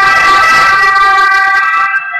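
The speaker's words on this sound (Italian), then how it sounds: "Se sentite l'ambulanza è perché sotto qua dove è il mio ufficio c'è la Croce Verde, quindi ogni tanto ahimè passano le ambulanze." An ambulance siren wails loudly in the street below an office, its steady warbling tone holding close and strong before easing off at the end.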